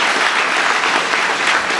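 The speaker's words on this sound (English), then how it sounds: "Give yourselves a round of applause for coming out today during the lunch hour." Loud, dense crowd applause fills a lunchtime campaign kickoff rally, a steady wash of many hands clapping close up with no pauses throughout.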